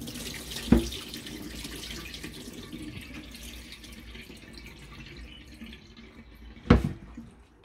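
Running tap water at a sink while sticky rice is rinsed for a Filipino kalamay rice cake, a steady close wash with two sharp splashy knocks, one near the start and one near the end.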